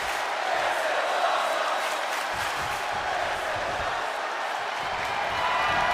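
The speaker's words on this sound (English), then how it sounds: "The sound of this crowd is deafening, and he's asking for more." An arena crowd roars and cheers during a WWE 2K22 wrestling match between Xavier Woods and AJ Styles, a loud, steady wash of noise with no breaks.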